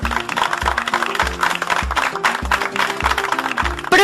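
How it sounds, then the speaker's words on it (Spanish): Steady applause from a group of people, continuous clapping at moderate loudness with no talk over it. "Vamos a dar un fuerte aplauso a su compañero"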